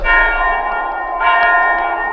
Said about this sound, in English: The bell calls upon me to do the deed.